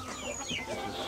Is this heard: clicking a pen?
no